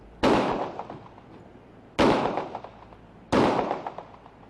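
Three sharp .40 caliber pistol shots fired by an officer into a metal target, each a loud crack with a ringing tail, spaced roughly one and a half seconds apart.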